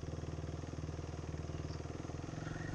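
A motorcycle engine runs steadily and close while the bike is ridden, giving an even, rapid pulsing throb throughout.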